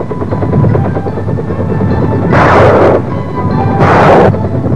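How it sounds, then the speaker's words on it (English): Army helicopter gunships sweeping low over Vietnam landing zones, a continuous loud rotor thump swelling twice into roaring passes overhead. "Then, minutes before the task forces arrived, Army gunships of the brigade made a final sweep."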